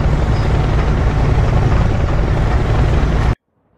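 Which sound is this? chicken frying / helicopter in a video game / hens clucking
helicopter in a video game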